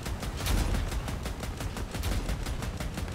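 Crossout's AC62 Therm autocannon fires a steady, rapid train of evenly spaced heavy shots, loud and close, with no voices over it.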